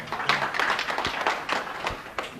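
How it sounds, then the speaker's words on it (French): Scattered audience clapping at a cinema festival ceremony, a loose ragged patter of individual claps at moderate distance, uneven in rhythm and fairly light. "je vous prie encore d'applaudir M."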